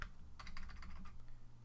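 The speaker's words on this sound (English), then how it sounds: "let's type that in" Steady keyboard typing on a computer during a Minecraft modded session, a quick run of close, crisp keystrokes clattering without pause.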